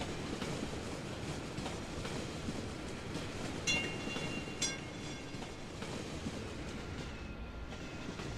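A tram running in the Cities: Skylines video game gives a steady rolling rumble with faint rhythmic rail clicks and a couple of brief metallic squeals, moderately quiet and alone.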